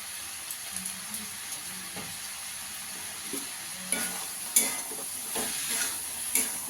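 Ghugni masala with Kashmiri chili powder frying in a pan, a low steady sizzle with occasional stirring scrapes and clinks, close and moderate in level with no talking.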